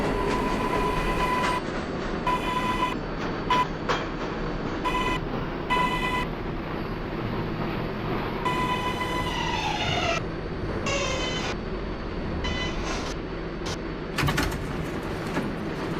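An R142A 6 train on the New York subway runs between stations, a continuous loud rumble and rail roar with tonal whines and brief high squeals recurring throughout, with no voices.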